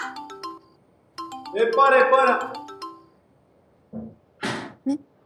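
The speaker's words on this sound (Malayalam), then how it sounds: "ഫോൺ അടിക്കുന്നു" A phone ringtone plays a tinkling melodic tune up close, followed by a few short bursts of speech.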